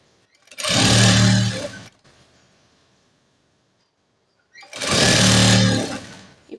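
A sewing machine stitching a plain blouse, two loud steady whirring runs separated by a few seconds of near silence with faint fabric handling.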